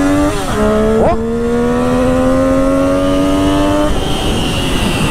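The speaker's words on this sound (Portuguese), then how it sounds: "Olha esse assobio característico da Triumph" A 2009 Triumph Daytona 675 motorcycle engine revs hard nearby, its pitch climbing and dipping with a distinct whining whistle, then the engine settles into a steady roar; a rider briefly speaks over it.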